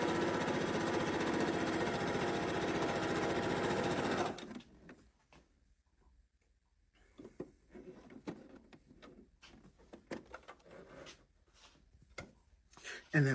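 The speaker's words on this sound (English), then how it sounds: "I'm just going to do a really quick straight stitch around that top." A sewing machine runs a continuous straight stitch around the top edge of a reusable cloth coffee filter, loud and close for about four seconds, followed by quiet handling and fabric rustles.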